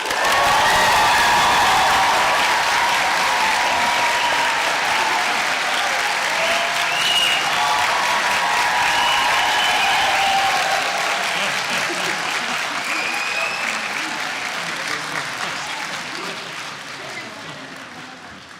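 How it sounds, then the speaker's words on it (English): Graduates at a 2019 college conferring ceremony applaud and cheer for science, a loud, sustained wash of clapping from a large crowd that slowly fades toward the end. "Big cheer for science, graduates, please"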